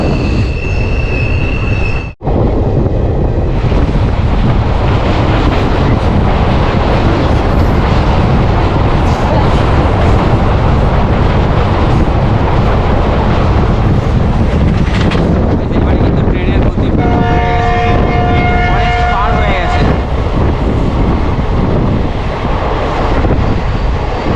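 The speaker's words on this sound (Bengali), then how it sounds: "ট্রেনের আওয়াজে সব দৌড়ে পালাচ্ছে" A Siliguri Intercity Express train runs loudly and continuously close by, with rumbling wheels, wind buffeting the microphone, and a sustained wheel squeal or horn-like tonal whine near the end.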